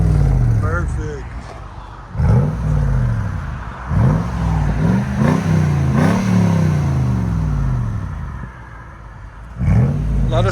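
A 2007 Lexus GX470 with a 4.7L V8 and a Carven TR-Series exhaust revs repeatedly nearby, deep blips rising and falling over a steady idle rumble while people talk.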